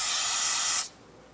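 Aerosol brake cleaner sprayed onto the rear brake bleeder of a Buick Encore, a loud, close pressurized hiss lasting under a second before cutting off abruptly.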